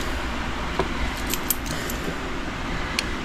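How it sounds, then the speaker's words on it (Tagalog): Coins jingle and clink in a handful, small metallic taps scattered over a constant low hum, with no voices. "So kaya kami dito ni Che, marami kang barya dito"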